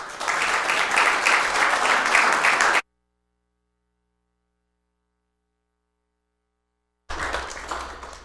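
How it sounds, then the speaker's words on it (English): Applause rises from the audience at a city council meeting in Papillion, a dense, fairly loud crowd clapping for a few seconds, cutting out abruptly to silence, then returning briefly near the end. "if we could give her a round of applause"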